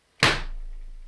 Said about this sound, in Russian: Что это за звук? Ой, простите, мы так дверь открыли.